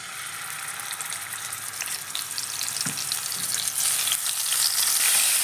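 Small fish frying in hot oil in a kadai on a gas stove, a steady bright sizzle that builds louder over the seconds, with a couple of soft clinks and no talking.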